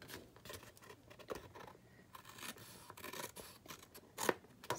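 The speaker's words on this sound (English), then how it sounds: "let me just trim this up so I can make sure everything is totally square" Scissors trim a papercraft cardstock card base square, making a quick series of close, crisp snips and paper rustles with no talking.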